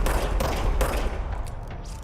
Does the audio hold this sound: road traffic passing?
no